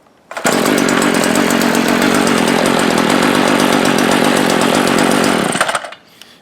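A small-engine string trimmer with stripped muffler bolts and its air cleaner housing removed starts up and runs at a loud, raspy, buzzing idle close by for about five seconds before dying away.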